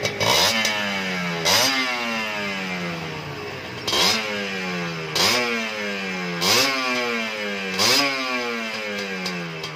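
A 2014 Kawasaki Ninja R two-stroke motorcycle with its stock exhaust revs hard in repeated bursts, each rising sharply then falling back to a rattly idle, loud and close, about six blips with no talking.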